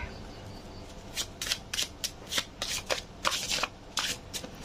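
A deck of tarot cards that is getting sticky is shuffled close up in a quick series of about a dozen crisp riffling bursts with short pauses between, with no voice.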